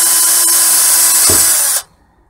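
Power drill fitted with a wood brad-point bit boring a hole; a steady high whine that dips under load partway through, then stops abruptly, loud and close, with no talk.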